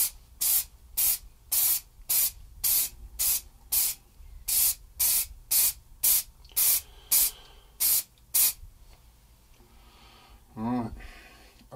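Clear coat sprayed from an aerosol can onto a Telemaster guitar headstock, heard as about fifteen short, evenly spaced bursts of hiss, fairly close, followed by a brief rattle and quiet.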